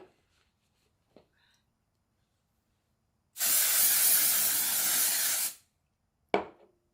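Aerosol can of a beauty hair product spraying in one steady hiss lasting about two seconds, close and loud, with a short click or rustle shortly after and quiet handling noises before.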